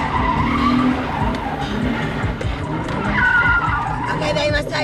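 A car spinning donuts, its tires skidding and squealing in long wavering screeches over a loud, continuous engine roar, close, with voices briefly heard in the noise.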